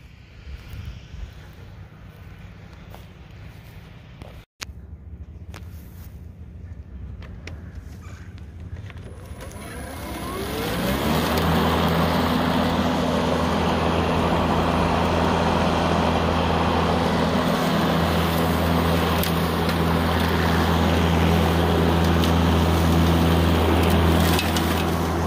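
A Makita LXT 18V X2 36V 18-inch brushless push lawnmower cuts grass, its motor starting after some quieter handling noise and then holding a loud, steady hum with a low rumble to the end.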